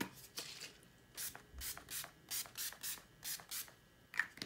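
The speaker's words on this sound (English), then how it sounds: "I usually spray my face at least one time" Short airy hisses from a makeup setting spray bottle sprayed onto a face, several quick bursts in a loose rhythm, close and fairly soft, with no talking.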